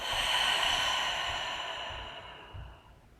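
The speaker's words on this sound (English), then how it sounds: "Taking a deep breath in through the nose and audibly out the mouth." A person takes a deep breath in through the nose and then breathes out audibly through the mouth, a long soft airy exhale that slowly fades, close to the microphone and with no speech, during a guided meditation.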